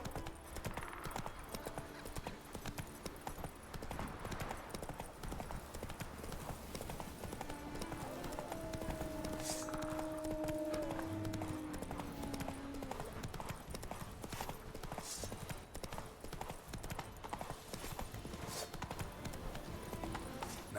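In The Witcher 3, a horse gallops with rapid, continuous clip-clop hoofbeats that run throughout, joined by a brief whinny and light background game sound.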